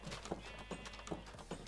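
Rhythmic clip-clop of horse hooves in Minecraft, four evenly spaced hoof strikes over a steady background hum, no talking.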